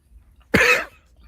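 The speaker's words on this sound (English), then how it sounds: "it's my stupid ass cough" A single sharp, close cough lasting under half a second, following a brief quiet pause with low background noise.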